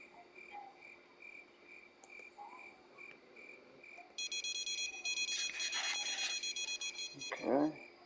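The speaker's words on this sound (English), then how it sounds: "That's a bottom pole beeping until we just take it." Bite alarm on a bottom fishing rod in the Fishing Planet game's Halloween event, giving regular, evenly spaced beeps over night-time frog and cricket ambience before a denser, louder electronic tone takes over.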